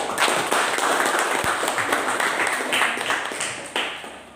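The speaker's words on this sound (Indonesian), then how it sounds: "silakan nanti tepuk tangan dulu untuk kita" Students in an Indonesian classroom clap at the end of a lesson, scattered individual claps and short bursts popping out unevenly over a low room murmur, moderately loud and close.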